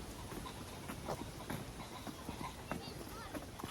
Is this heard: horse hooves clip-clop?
yes